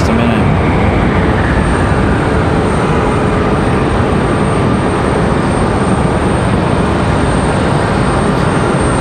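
A Sun Country airliner in Tide Pod livery near Raleigh-Durham airport gives a loud, steady broadband engine roar that holds evenly, with a faint rising whine, close and unbroken with no talk.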